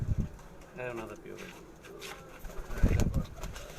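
Pigeons in a loft give soft coos and a brief flutter close by, while people talk over them.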